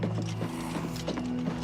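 Horse hooves clip-clop in a steady walking rhythm in the video game Oblivion Remastered, moderately loud over a constant low game hum, with no voices.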